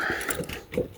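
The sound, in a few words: keys being worked in a lock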